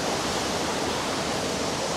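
Jōren Falls in Izu, a waterfall with a 25-metre drop, gives a steady, dense rushing roar of falling water that stays even and unbroken throughout, heard close with no talking.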